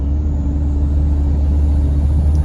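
A Ford Everest 3.2 twin-turbo engine runs at part throttle with a loud, steady low rumble and drone, heard from inside the cabin.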